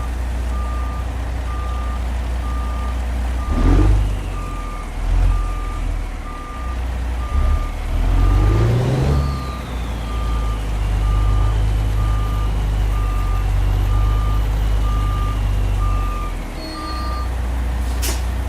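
Truck reversing beeps from a truck driving video game on US routes, a steady evenly spaced beeping running through most of the stretch over low engine rumble, with air-brake hisses and engine surges in between.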